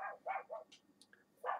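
Dogs barking in a quick run of close, clear yips and barks, followed by a pause with faint squeaks and then another bark.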